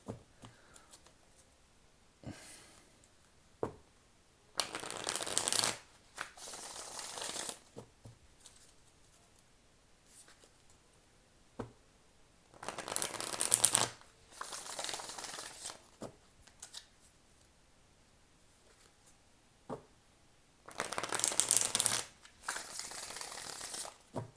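Bursts of card shuffling from a 1975 Royal Fez Moroccan tarot deck, several separate riffle-like rustles a few seconds each, close and fairly quiet, with soft handling noises between them.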